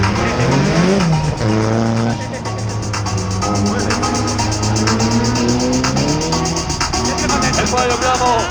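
A BMW M3 at a motor racing event revs hard, its engine note rising and falling in loud sweeping bursts over constant crowd and track noise, with several sharp throttle blips close by.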